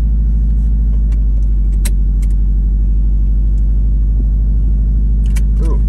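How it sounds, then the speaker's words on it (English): A parked 2018 Subaru WRX STI idles, a loud, close, steady low rumble that holds throughout with a few faint clicks and small knocks on top. "Might as well let you guys hear the car a little bit too while it sits here."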